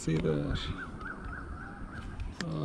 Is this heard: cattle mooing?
no